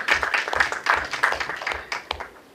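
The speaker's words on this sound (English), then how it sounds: "Please give her a round of applause." An audience at a legal talk applauds to welcome a former judge, producing a moderate, steady patter of many hands with a faint low rhythmic thump beneath, fading toward the end.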